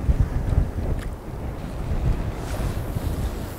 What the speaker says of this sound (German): Das ist so ein starker Wind.